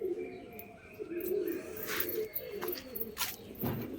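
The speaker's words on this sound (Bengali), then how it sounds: "দেখে নিন পায়রাটা আমি ভালো করে দেখাচ্ছি" A long-bodied pet pigeon coos in low repeated phrases under a broad hiss of room noise, with a few sharp clicks and handling knocks scattered through.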